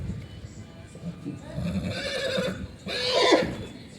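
A horse neighs loudly at the Yeola horse market, a long shrill whinny rising near the end, over a busy background of crowd noise and faint hoof clatter.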